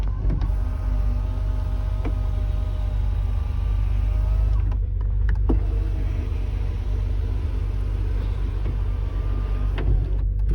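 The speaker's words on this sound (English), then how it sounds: "The sunroof, I hear you ask," Electric sunroof motor of a Volkswagen Corrado VR6, a steady whirring hum of the motor heard inside the car over a low idle rumble, with a few small clicks.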